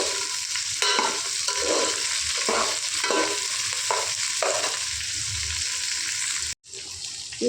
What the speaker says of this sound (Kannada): ನೀರುಳ್ಳಿ ಸ್ವಲ್ಪ ಫ್ರೈ ಆಗುವಾಗ ಈ ಬೆಂಡೆಕಾಯನ್ನು ಇದಕ್ಕೆ ಹಾಕಿ